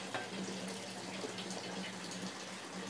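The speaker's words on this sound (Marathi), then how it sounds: "तोपर्यंत धुवून घेते आपले पोहे" Water runs steadily from a kitchen tap while flattened rice (poha) is rinsed, a continuous close, low-level splashing hiss with no talk.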